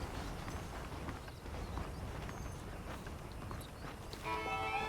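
Horses clip-clopping in the Western video game Red Dead Redemption, a continuous muffled patter of hooves over a dense ambient bed, with a brief brighter chime near the end.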